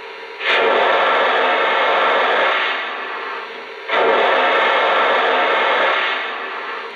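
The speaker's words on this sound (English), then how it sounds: "Here's the cylinder steam sound." A Lionel O gauge toy steam locomotive's cylinder steam effect gives two long bursts of hissing steam, each starting sharply and fading slightly before stopping, with a brief pause between them.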